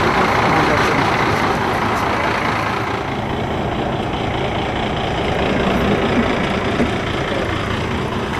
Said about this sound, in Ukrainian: який автобус під'їхав